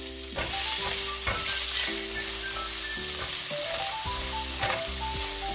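Asparagus frying in a pan of butter and olive oil, a steady close sizzle with occasional stirring knocks and clinks running throughout.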